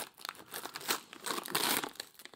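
Heavily taped Christmas gift wrapping paper is ripped open up close, loud crinkling and tearing bursts that come in quick successive waves with no speech.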